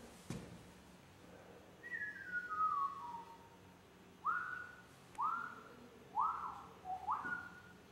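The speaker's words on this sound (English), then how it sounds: "Jake is whistling." A person whistles nearby: one long descending note, then four short rising phrases in a loose rhythm, quiet against a faint room background.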